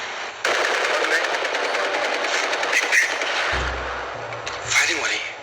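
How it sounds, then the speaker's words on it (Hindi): Machine gun fire in a 1993 Hindi drama, a sustained loud rattling burst running for several seconds with rising and falling intensity, a deeper rumble joining near the end. "फायरिंग हो रही है।"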